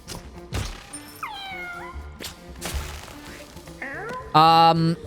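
Cats meowing in the video game Mewgenics, several distinct rising and falling meows in succession with a louder, brighter cry near the end, over light game sounds and a speaking voice.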